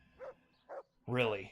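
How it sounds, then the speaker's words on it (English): A dog with a strange bark in the medieval game Kingdom Come Deliverance gives two short, clipped barks, followed by a brief spoken voice. "Find the dog with a strange bark"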